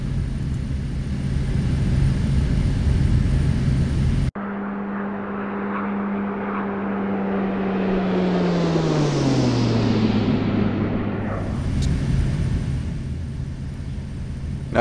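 A T-6A Texan II turboprop engine in the X-Plane 12 flight simulator drones steadily, then its tone cuts abruptly and slides down in pitch before settling into a lower, continuous rumble.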